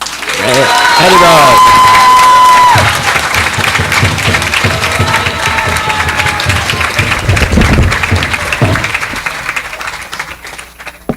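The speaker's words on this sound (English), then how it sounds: "now you can applaud." A school audience applauds after student names are called, a broad, sustained wash of clapping and some cheering that carries on under a speaking voice, with a steady tone ringing through the opening seconds.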